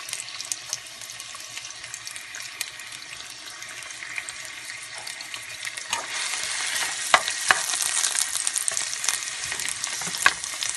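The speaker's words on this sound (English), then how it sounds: "starting with the onions, we're going to start frying those" Chopped onions frying and being stirred in a pan while making homemade four-cheese lasagna, a steady close sizzle with scraping stirs and occasional clatters growing louder toward the end.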